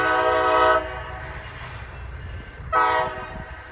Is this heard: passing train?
yes